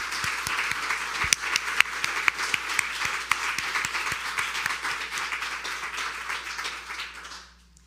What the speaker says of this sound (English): One more time, a round of applause for these young men and women.